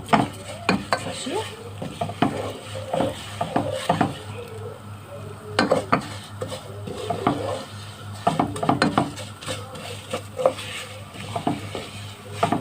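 Vermicelli frying in oil in a pot, stirred with repeated utensil scrapes and clinks over a steady sizzle, with someone briefly speaking.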